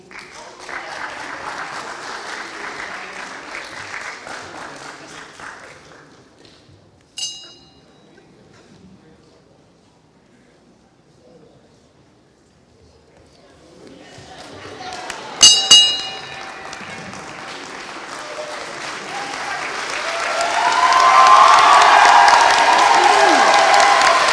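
An audience applauds and cheers for a graduating academy class, with a burst of clapping at the start that fades to near silence, a few clinks, then swelling applause and shouts building loudly toward the end, with a voice speaking.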